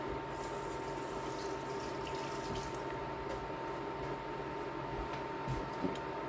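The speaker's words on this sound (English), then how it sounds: "let me rinse this off." A kitchen faucet runs steadily as something is rinsed under it, a continuous, moderately quiet splashing hiss with a faint hum beneath and occasional small clinks.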